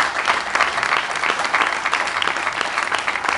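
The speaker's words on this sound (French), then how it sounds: "Ça, je les applaudis, et nous les applaudissons" A room full of people applauds for the families at a Senegalese consular evening in Haute-Savoie, with steady, dense clapping that stays loud and even throughout.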